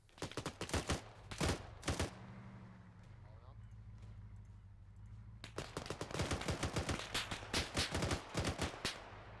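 Rapid bursts of automatic gunfire and single shots crack close by in an ARMA 3 firefight, clustered at the start and again in a dense volley near the end, with a lull of low engine rumble between.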